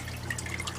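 A fountain pump circulates water inside a slightly dirty cooler used as a backyard chicken waterer, giving a steady, soft trickling and dripping murmur that continues evenly throughout.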